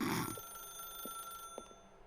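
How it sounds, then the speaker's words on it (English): A telephone rings in the video game The Stanley Parable with a faint, sustained electronic tone after a louder burst at the start, alongside a few soft clicks. "As Stanley picked up the phone"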